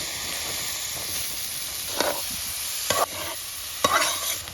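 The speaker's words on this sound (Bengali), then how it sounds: "পেঁয়াজ রসুনটা ভাজা হয়ে গেছে, এখন আলু কুচি দিয়ে দিমু" A steady hiss of chopped potatoes stir-frying in a pan with fried onion and garlic, broken by three distinct scraping stirs from a spatula, close and clear.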